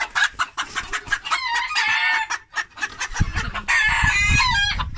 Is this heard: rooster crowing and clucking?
yes